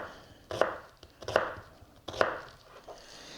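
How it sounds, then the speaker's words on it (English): A kitchen knife slices an onion on a cutting board with three distinct, evenly spaced cuts, each a crisp close thud with a short crunchy edge, quiet between strokes and free of talking. "So you slice the first one, and then slice the second half."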